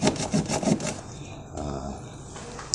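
Someone rubs and scrapes a Honda City door panel to smooth it during soundproofing, giving close abrasive swishes mixed with talking.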